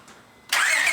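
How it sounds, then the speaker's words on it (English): Car engine catching on its first start after a clutch replacement: quiet at first, then a sudden loud burst that settles into a steady, bright running roar with a rising whine. "this is the first start. So we're gonna see if it starts."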